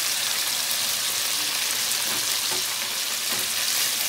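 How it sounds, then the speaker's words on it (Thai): Cabbage stir-frying in a hot wok alongside pork and shrimp, a steady loud sizzle with a few faint scraping strokes of the spatula, no voices. "จากนั้นเราใส่กะหล่ำลงไปเลยค่ะ"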